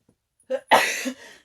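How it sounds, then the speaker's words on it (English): A single sharp sneeze bursts out after a short intake of breath, close and loud, then trails off quickly. "excuse me, a sneeze"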